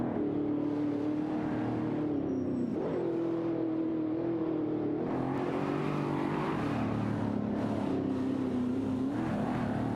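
Engines of racing cars roar through a video game race, with a steady sustained drone shifting pitch as cars rev and jostle for position, loud and continuous for the whole stretch.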